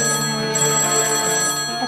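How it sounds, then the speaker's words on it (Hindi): A telephone rings steadily with a bright electronic tone, close and fairly loud, continuing without pause and with no voices over it. "ये फोन भी तेरी ताईदी की तरफ बजे जा रहा है"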